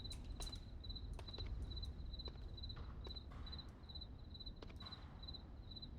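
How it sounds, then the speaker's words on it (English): Crickets chirp in the Onward VR video game, a steady run of short, evenly repeating trills that carries through the whole stretch, with a few soft taps and footstep-like knocks underneath. "Those crickets can be annoying though."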